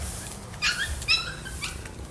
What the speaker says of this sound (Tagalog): Yung mga aso guys, ang liit ang aso guys.